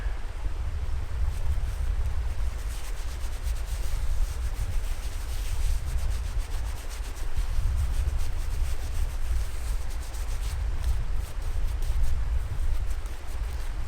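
A shaving brush spreads Outdoorsman's Friend soap lather across a face, giving a continuous close, soft swishing rub with a low rumble underneath and no speech.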